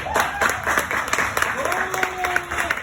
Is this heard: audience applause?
yes